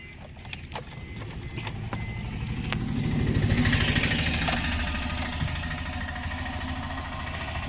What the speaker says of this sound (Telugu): బండి ఇంజిన్ కూడా స్టార్ట్ చేసి మీకు చూపెడతాను